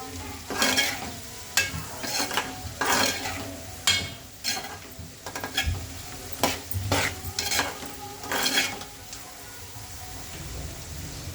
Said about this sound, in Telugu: సాల్ట్, కారం వేసుకుని మంచిగా కలుపుకుందాము.